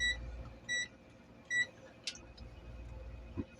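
Short electronic beeps from a continuity-test buzzer while probing the IPM of a Daikin outdoor air-conditioner unit, three quick tones in a row followed by a faint click, heard close and alone.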